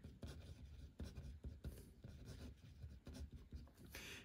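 Chalk or marker scratches across a classroom board as a definition is written out, a rapid run of short, faint scraping strokes with brief pauses between words.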